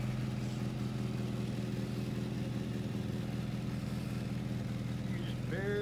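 A 1948 Buick Special's engine idles with a steady, smooth low rumble at an even level throughout, and a brief higher sound rises near the end.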